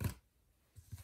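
Scissors cut paper along a line for a planner layout: one short crisp snip up close at the start, a quiet pause, then a couple of softer snips near the end.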